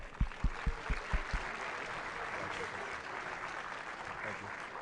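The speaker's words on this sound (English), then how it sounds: "And let's give her one more round of applause." A few sharp, separate claps open into steady crowd applause at a city employee awards ceremony, continuing at a moderate level to the end.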